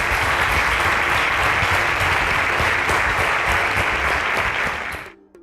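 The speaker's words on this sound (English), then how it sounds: "A round of applause for them, please." Steady, dense audience applause for three semi-finalists on a televised competition show, loud and continuous before cutting off abruptly at the end.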